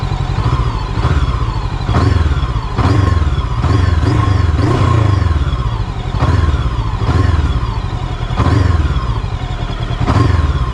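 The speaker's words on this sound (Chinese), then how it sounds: "就转速这块来看，大家根据声音这个对比，转速的这个反应还是有一点延时的" A Gaokin Storr 500 motorcycle engine revs repeatedly from idle, with loud rises and falls in rapid succession close by, each blip dropping back to a rumbling idle.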